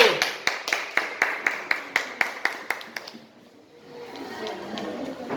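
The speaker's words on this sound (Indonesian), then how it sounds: "Oke, beri tepuk tangan buat kelompok 1." Rhythmic clapping in a school classroom in Pontianak, students applauding a presenting group with about a dozen even, sharp claps that stop after three seconds, leaving soft room murmur.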